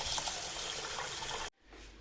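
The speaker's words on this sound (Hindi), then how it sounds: "और दाल को धो के भिगो देते हैं।" Kitchen tap water pours steadily while lentils (dal) are washed and soaked, a close continuous splashing rush that stops abruptly, leaving a quieter trickle.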